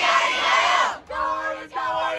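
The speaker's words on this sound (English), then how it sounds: "Well, this crowd is going insane." Spectators at a high school football game yell and cheer in a loud, sustained roar of massed voices, broken by two brief dips.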